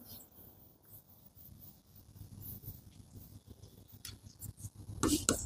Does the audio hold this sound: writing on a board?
yes